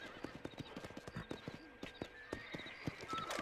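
Steady clip-clop of horse hooves trotting at a quick, even rhythm in Red Dead Redemption, with a brief whinny near the end; no talking.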